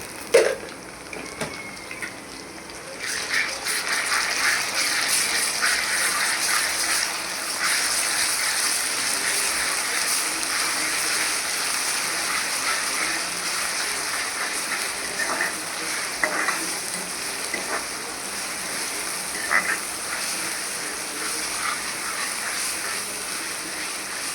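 Ginger garlic paste frying in hot oil for chicken fry, a continuous close sizzle with occasional stirring scrapes and clicks after a sharp clatter at the start, with no talk.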